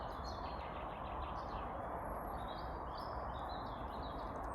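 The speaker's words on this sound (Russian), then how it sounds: "Вы слышите пение птиц?" Many small birds chirp and twitter outdoors, their high calls faint above a steady broadband wash of background noise.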